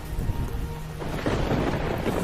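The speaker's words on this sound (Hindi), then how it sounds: "ये बारिश तो रुकने का नाम नहीं ले रही। ये तो और तेज होती जा रही है।" Steady, dense heavy rain roars without pause, growing heavier and louder partway through, with a low rumbling wash underneath as cold wind picks up.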